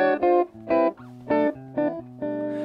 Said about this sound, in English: It's a jazz guitar.